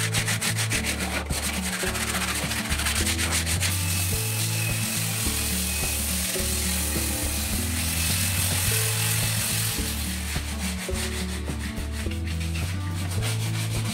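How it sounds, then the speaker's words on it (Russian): Steady rasping of sandpaper rubbed back and forth over a plastered wall, continuous and close, with rhythmic strokes and occasional scraping shifts. "Осталось теперь все хорошо зашкурить, почухать, и можно приступать к покраске."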